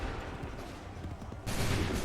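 A musket volley fired on command in Assassin's Creed III, heard as a dense crackling fusillade of many shots together, loud and close, that erupts in the final half second after a rumbling battlefield din.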